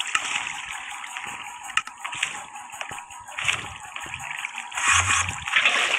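Water poured from a bucket in Minecraft, with splashy trickling and sloshing in short bursts over a steady game background, one sharp click, and louder splashes near the end.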